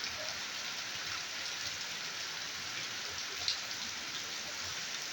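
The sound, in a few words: heavy rain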